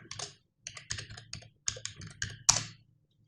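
Quiet bursts of keys clicking on a computer keyboard come in short runs separated by pauses, as an email address ending in gmail.com is typed.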